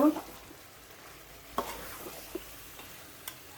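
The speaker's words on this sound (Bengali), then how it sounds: "এখন আমি ডাল আর গোস্ত কষিয়ে নেব" Chana dal and Qurbani beef being stir-fried in a pot, a faint low sizzle broken by a few sparse spoon scrapes and taps, close but quiet.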